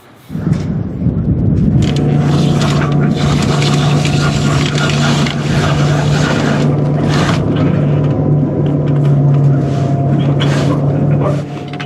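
Wind rushes steadily past a sailboat off Norfolk as the mainsail and anchor go up, a loud continuous roaring buffet with a low hum beneath, while people talk over it.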